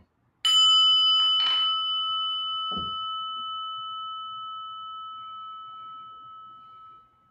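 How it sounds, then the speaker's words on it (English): A single meditation bell is struck once and rings out clearly, its pure tone sustaining and slowly fading over several seconds in a quiet room. "Listen to the bell."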